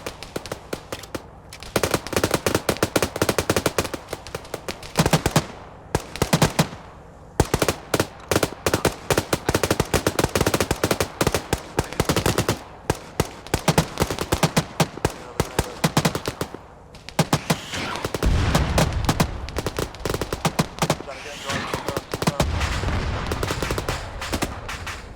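Sustained machine gun fire from a Skyshard mission video game rattles loudly in long rapid bursts with brief gaps, close and dominant throughout.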